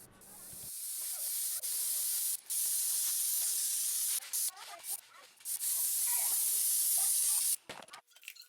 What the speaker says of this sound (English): I gave everything 2 coats of spray lacquer with a sanding between the coats.